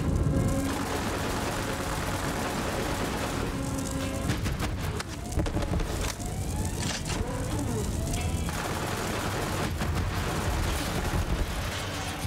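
Continuous rapid gunfire and explosions in the video game Borderlands 3 rattle throughout, dense and loud, with bursts of automatic shots and occasional sharper blasts.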